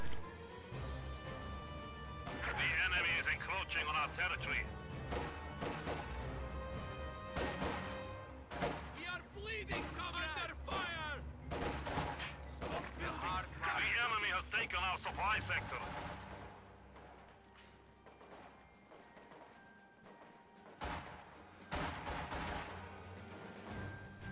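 Gunfire, grenade blasts and a Molotov burst out in bursts during a World War II-style strategy game battle with PPSH submachine guns, with sharp shots and explosions rising and falling under steady excited commentary.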